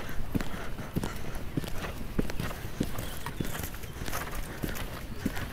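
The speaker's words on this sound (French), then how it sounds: "Garde le cheval au galop à gauche, laisse pas le cheval changer." A horse canters on the left lead in a riding arena during a training session, its hoofbeats landing in a steady, rhythmic clip-clop that stays moderately close over constant background noise.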